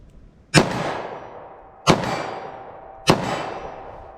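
.38 Special revolver with a 2-inch barrel fired in a ballistic test: three sharp, loud gunshots about 1.3 seconds apart, each with a lingering decaying echo.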